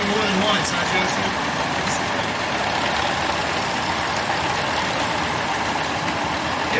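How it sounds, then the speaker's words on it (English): A 1948 Farmall MD tractor engine runs steadily at an old threshers show, a continuous loud low rumble with broadband noise; a person talks over it. "This is a 1948 Farmall MD."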